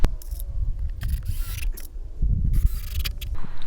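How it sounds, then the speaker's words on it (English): Screws being driven into a wooden raised bed to hold one side up on uneven ground, heard as bursts of mechanical grinding and whirring with brief pauses between them, close and fairly loud. "we're going to screw 2 screws in just here to keep it in place"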